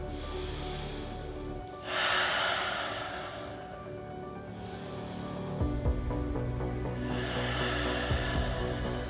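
Two slow, deep breaths taken in a figure-four hip stretch during a yoga balance flow, each a long airy inhale-exhale whoosh heard close and alone over a faint background hum.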